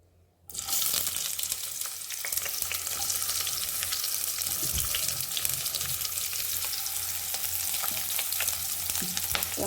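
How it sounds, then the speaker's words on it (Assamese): Onions hit hot oil in a pan with a sudden onset, then a loud, continuous close sizzle and popping that holds steady for the rest of the stretch, with no voices. "এয়া তেলখিনি গৰম হৈ গ'ল দেখিছে এতিয়া মই পিঁয়াজখিনি দি দিম"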